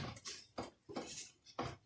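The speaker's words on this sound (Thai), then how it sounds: "ซอยหัวหอมค่ะหัวหอมใหญ่" Knife slicing a large onion on a cutting board, four quick chopping strokes with a crisp, close tap and crunch, evenly spaced and fairly quiet.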